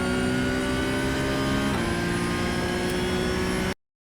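A Porsche 992 GT3 Cup racing engine in iRacing holds full throttle, a loud, steady high-pitched drone that climbs slightly and briefly dips at a shift before cutting off abruptly at the end.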